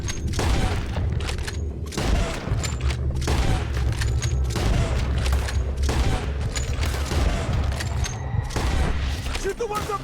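Rapid gunfire and booming shots fill a Red Dead Redemption 2 shootout, dense and continuous bursts close up, with voices shouting over the din.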